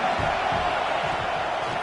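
Roaring football stadium crowd at a Miami versus Missouri State game, a dense, loud, continuous wash of cheering and yelling with no breaks.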